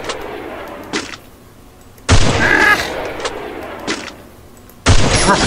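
Gunshots in the mobile battle-royale game Free Fire ring out as a few sharp, loud bursts, spaced apart over a quieter background, with brief smaller pops between them.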